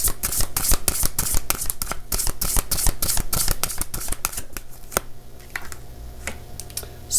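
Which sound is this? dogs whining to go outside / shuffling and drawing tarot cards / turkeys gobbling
shuffling and drawing tarot cards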